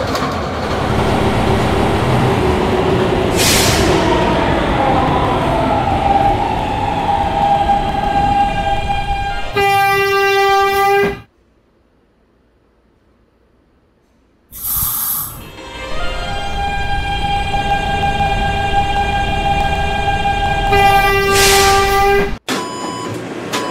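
A New York subway E train sits at a station with a loud, rising and falling whine of traction motors, then the sound cuts out briefly before the train hums and whines again, punctuated by door chimes.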